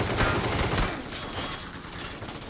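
Rapid machine gun fire in the battle royale game PUBG on the Miramar desert map, a dense burst of loud shots for about a second that then carries on more softly as continued fire.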